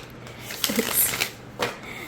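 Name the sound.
shuffling a tarot-size Messenger Oracle card deck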